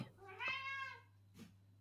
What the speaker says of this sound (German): Er steht vor der zuenen Tür und maunzt.